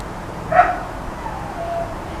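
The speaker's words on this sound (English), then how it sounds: "That is a dog." A dog near a home herb garden gives a single short bark or yip, close and fairly loud, followed by quiet with some faint whimpering.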